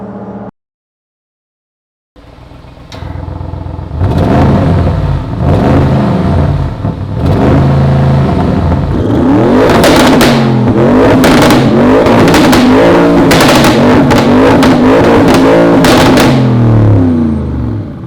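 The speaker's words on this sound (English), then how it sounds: "You're at full revs in 5th gear" A tuned Audi RS6 C8 engine on a dyno revving hard and loud for a sustained stretch at full revs in fifth gear, rising and holding at high revs after a brief silence, with a strained mechanical roar.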